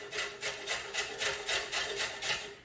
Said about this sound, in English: now we're just gonna grate the carrots.